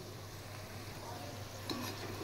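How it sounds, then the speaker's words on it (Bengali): Besan pakoras sizzle in hot oil over a low flame, a soft continuous crackle with a faint clink of a utensil near the end, under low background hum. "এই পকোড়াটা আমি একটা একটা করে সুন্দর করে ভাজবো না, ছড়িয়ে ছিটিয়ে দিয়ে দিয়ে ভাজবো।"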